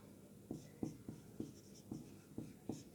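Pen or pencil scratching on paper as Hindi letters are written by hand, six or seven short distinct strokes in a steady rhythm, close and fairly quiet, with no voice.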